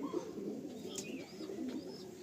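Blood-line pigeons coo softly nearby, low murmuring calls repeating through the short stretch, quiet and close, with a faint higher chirp or two over them.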